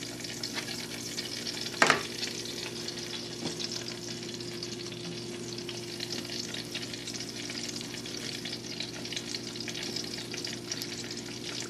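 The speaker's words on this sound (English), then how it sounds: "now we are going to fry the ausytes with a little bit of touch of canola oil at the bottom" Lithuanian ausytes pastries frying in a thin layer of canola oil in a pan, an even, steady sizzle throughout with a single sharp clink early on.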